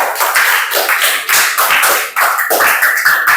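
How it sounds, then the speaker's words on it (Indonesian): A classroom group receives applause from students, a dense run of close hand claps lasting a few seconds with slight dips in intensity and no talking. "berikan aplaus untuk kelompok"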